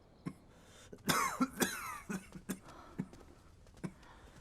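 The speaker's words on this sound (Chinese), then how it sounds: "还是咳嗽不止，难以安寝" Several sharp coughs in bursts, with a cluster of harsh hacking coughs near the middle followed by scattered single coughs, close and fairly quiet.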